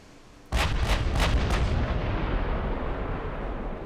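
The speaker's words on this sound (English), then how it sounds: "I would really love you to fire on that ship" Naval guns firing in the warship game Ultimate Admiral: Dreadnought, a sudden heavy salvo of several rapid booming blasts that merge into a long, loud rumbling roar with no voices.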